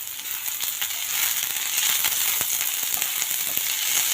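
Capsicum and onion sauté in ghee in a kadhai, giving a steady close sizzle with scattered crackles and pops throughout, with no voices.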